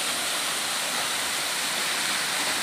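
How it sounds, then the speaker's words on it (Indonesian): A waterfall roars continuously at the Sinua area in Sabah, a steady, broad rush of falling water, close and loud with no breaks and no voices. "Lihatlah, inilah air terjun di sini."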